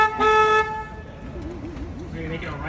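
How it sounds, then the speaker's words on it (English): A boat horn sounds one loud, sustained honk near the start on a river cruise through the San Antonio River Walk, followed by engine rumble and a voice talking. "I'm gonna honk my horn here,"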